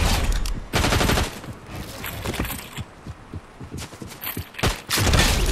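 Shotgun blasts in the video game Fortnite, several loud close bursts spaced irregularly among game action and mechanical clatter, with no talking.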